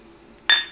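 Glasses of a blue fizzy drink clink together in a single bright toast, a sharp near ring that decays quickly after a quiet start.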